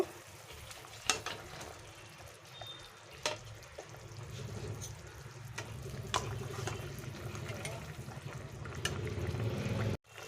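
Katla fish simmers in a sour mango gravy with a soft, steady bubbling, broken by occasional sharp utensil clicks close by.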